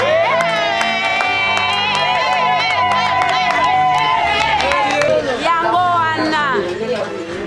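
A church congregation loudly cheers and acclaims the Lord during a service, a dense, sustained wall of raised voices with sung, tonal shouting that carries steadily throughout and eases slightly near the end.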